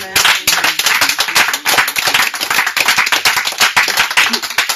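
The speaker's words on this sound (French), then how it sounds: "Est-ce qu'on peut acclamer le Seigneur?" A congregation at an all-night prayer meeting claps loudly and briskly, sharp close hand claps in a fast, uneven rhythm that carry on without pause and stand alone with no talking.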